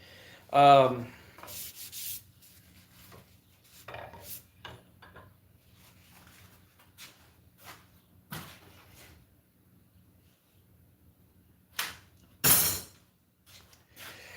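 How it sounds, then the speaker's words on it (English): Grinding a bevel on a steel tomahawk head comes through as a handful of short, scattered rasping strokes, fairly quiet, with long near-silent gaps and a brighter burst near the end. "I'm grinding a bevel on this one."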